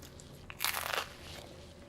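Someone bites into a crunchy snack, giving one loud, close crackling crunch that lasts about half a second in a quiet room.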